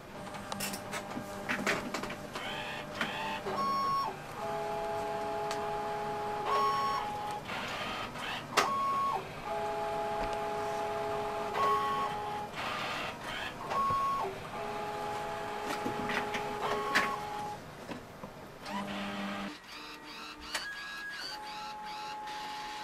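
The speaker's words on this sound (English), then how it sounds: "I'm going to go ahead and send it over to this Matica 8600 printer and encode and print the card" A Matica 8600 card printer encodes and prints a smart card, giving a steady mechanical whir with repeated motor steps and short electronic tones. It runs continuously for about twenty seconds, then drops to a quieter hum near the end.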